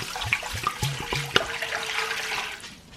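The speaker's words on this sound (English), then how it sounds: "I'm going to put in, to start, 4 cups of water." Four cups of water pour into a pan of dry lentils, starting with a few glugging bursts and then settling into a steady splashing gush that tails off, close by and without speech.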